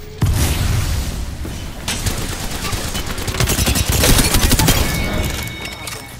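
Apex Legends gunfire: loud, rapid automatic bursts mixed with heavy booms, sustained almost without pause from start to finish.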